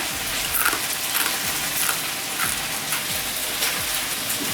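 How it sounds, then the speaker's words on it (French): Meat frying in a pan gives a steady, broad sizzle with crackling pops throughout, close and fairly loud, with no voices. "je suis en train de cuire de la viande"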